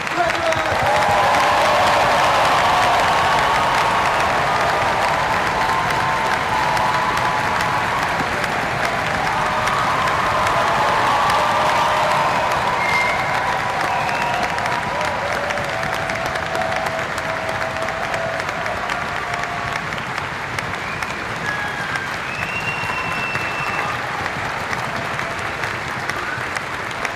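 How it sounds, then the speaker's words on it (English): Sustained, thunderous applause with some cheering from a large crowd honouring graduates at a Warwick University graduation ceremony, dense and steady for the whole stretch. "can I ask you all, one last time, for an enormous round of applause for our magnificent graduates!"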